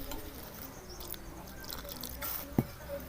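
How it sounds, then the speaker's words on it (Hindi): A little water is poured into an egg paratha batter, giving a low, steady trickle and faint sloshing with one sharp splash or knock near the end, close up and without speech. "इसमें मैं थोड़ा सा और पानी डाल के"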